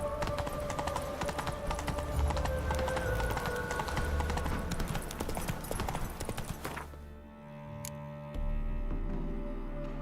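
Horse hooves clip-clopping in the video game Final Fantasy XIV: a rapid, steady run of hoofbeats over a dense game soundscape, breaking off near the end into a brief quieter stretch before a low background returns.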